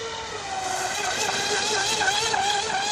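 A Hobbyking Hydrotek F1 self-righting RC boat's electric motor runs at full throttle, making a steady, loud, high-pitched whine with rising and falling tones that fills the whole stretch.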